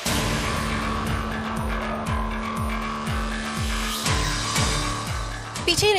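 A car driving fast in pursuit of another vehicle, its engine throbbing with repeated rising and falling revs and a loud passing whoosh near the end, with background drama music and sound effects.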